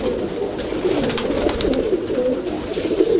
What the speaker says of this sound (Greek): Αυτά κύριε είναι τα περιστέρια του Γιώργου